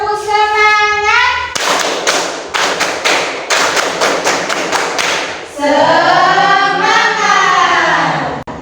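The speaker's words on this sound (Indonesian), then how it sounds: "Oke, yang lebih semangat lagi, tepuk semangat" A classroom group claps together in a quick, energetic rhythmic pattern, loud and close, with bursts of sharp claps between stretches of group chanting and voices.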